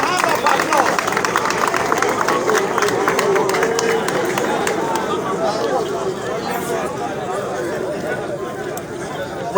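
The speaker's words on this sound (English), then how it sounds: "A hand of applause." Outdoor crowd at a passing-out parade in the Niger Delta, Nigeria, with continuous broad noise of applause, chatter and hubbub holding steady and loud throughout.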